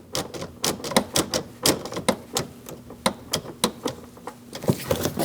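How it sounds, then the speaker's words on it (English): A hose clamp on the intake hose of a 2006-2011 Chevrolet HHR 2.4L L4 is tightened, producing a quick run of sharp, close clicks and taps in an uneven rhythm, without speech. "Tighten up your hose clamp in the back"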